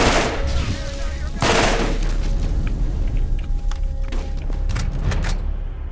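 Bursts of gunfire from a Dahl weapon in the Borderlands video game, several sharp loud volleys spaced across six seconds with reload clatter and game noise between them, a voice briefly speaking over part of it.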